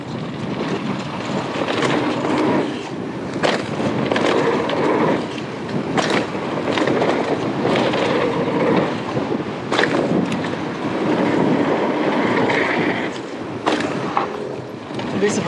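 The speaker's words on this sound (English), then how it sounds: "Very strong wind, but it's coming straight down the line" Strong, gusty wind buffets the microphone outdoors around Sydney Harbour, a steady broadband roar swelling and easing in bursts throughout, loud and close, with no clear voices over it.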